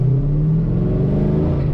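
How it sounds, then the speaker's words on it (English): A Geely car engine revving, a loud, close, steady mid-pitched rumble with a strong droning tone, held evenly for under two seconds with no speech. "The result is a powerful, fun engine full of character."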